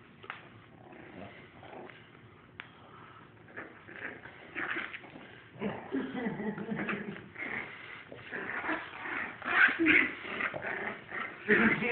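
A big dog and a small dog fight, with continuous yips, whimpers, growls and snarling barks that grow louder and more frantic toward the end.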